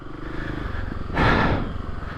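A 2024 Kawasaki KLX300 dual-sport motorcycle rides downhill off-road, its single-cylinder engine burbling low, then a brief louder rush of wind and engine noise swells midway before easing.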